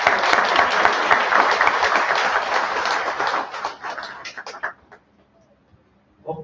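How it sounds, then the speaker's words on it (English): Audience at a Gita course applauds volunteers with dense, sustained clapping that thins out and dies away after about five seconds, followed by near silence and a brief sound at the end. "They deserve a round of applause."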